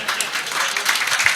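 A crowd at a Hindi comedy poetry show claps in a short, dense burst, steady and fairly loud, with no voices on top.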